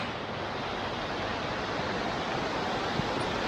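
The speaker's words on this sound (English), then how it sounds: "Look at the river." River water at Crystal Falls, British Columbia rushes in a steady, close broadband roar that holds even and unbroken throughout, with no voices present.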